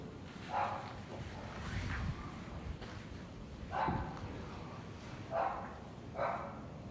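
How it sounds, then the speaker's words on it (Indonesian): A dog barks several times somewhere in the distance around an abandoned hotel in Bali, with single yaps spaced a second or two apart over a quiet, hissing backdrop. "Suara guguk di sini kak?"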